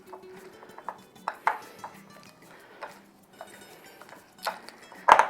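A tortilla topping mixture being stirred in a bowl, with light scraping and intermittent clinks of a utensil against the dish, quiet and close, ending in a sharper knock.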